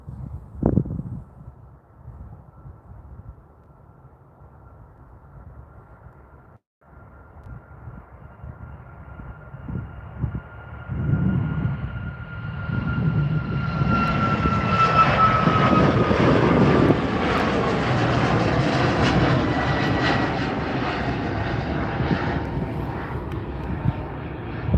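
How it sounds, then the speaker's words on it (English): A WestJet airliner arrives on runway 35 right at Calgary Airport, its engine roar building from faint to a loud, sustained rumble with a rising whine as it passes close by. "Here comes the WestJet."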